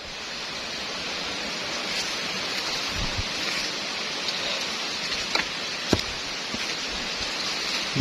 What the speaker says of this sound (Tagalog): Yan ang view ng ating mahiwagang sapa at daanan ng mahirap.